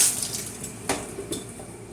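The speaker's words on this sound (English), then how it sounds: "let me turn this water on and I'll show you real quick" Water runs from a hose outdoors during deep cleaning of a 330-gallon aquarium, giving a steady moderate hiss with a couple of brief splashy spikes.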